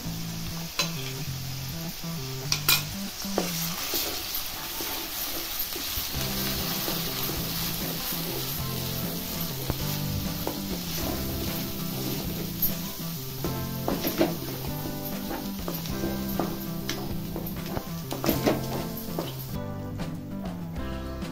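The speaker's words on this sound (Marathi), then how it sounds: "यामध्ये पेस्ट घालायची आहे, टोमॅटो, कांदा, आलं, लसूण, मगजबी आणि काजूगर पेस्ट घालून परतायचं आहे चांगलं।" A paste of tomato, onion, ginger, garlic, melon seeds and cashews sautéed for mixed veg Kolhapuri, a steady close sizzle with rhythmic scraping and occasional utensil knocks throughout.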